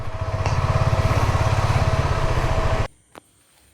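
A KTM ADV 390 motorcycle rolls close into parking with a loud, steady pulsing engine that cuts off abruptly near the end, followed by a single brief click.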